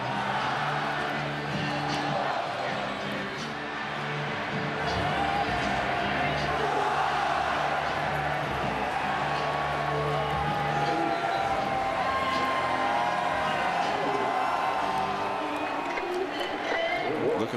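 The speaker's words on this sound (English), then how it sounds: "And another fabulous crowd at Iowa City." A packed football stadium crowd in Iowa City at the Iowa vs Michigan 2009 game roars in a sustained, distant wash of cheering and whooping, with commentary voices over it.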